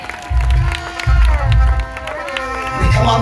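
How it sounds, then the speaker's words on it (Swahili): A congregation at an outdoor gospel meeting claps for Jesus, with dense bursts of applause and crowd noise rising and falling under a preacher's amplified voice. "Pigia Yesu makofi mengi"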